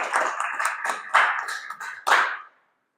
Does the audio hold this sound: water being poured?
no